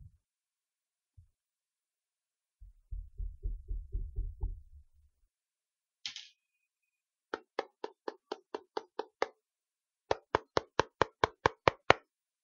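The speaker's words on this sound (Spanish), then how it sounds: "fuimos interrumpidos por el sonido de alguien que llamaba a la puerta" Knocking on a door in two separate bursts of sharp, evenly spaced raps, about seven then eight knocks, clear and close, after some softer low rustling thumps; no voices.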